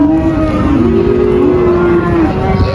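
Loud, drawn-out moo from a Limousin bull among newly arrived young bulls, close and sustained for about two seconds and then trailing off, with low background rumble.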